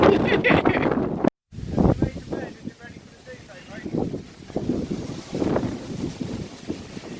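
Gusty wind buffets the microphone in a steady roar, with people talking over it throughout.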